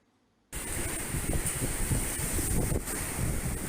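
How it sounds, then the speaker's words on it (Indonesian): Strong wind with a rainstorm buffets a street in Ciampea, Bogor, a dense roaring rush that starts abruptly after a half-second of silence and then holds steady and loud, with no voices. "Cuaca ekstrim hujan disertai angin kencang kembali menerpa kawasan Ciampea"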